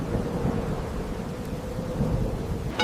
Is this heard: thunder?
yes